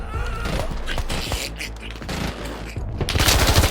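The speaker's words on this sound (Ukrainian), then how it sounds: "він стріляє через вікно." Rapid bursts of gunfire crackle in dense volleys, loud and close, shooting through a window during combat in Yehorivka, with a brief lull before another heavy burst near the end.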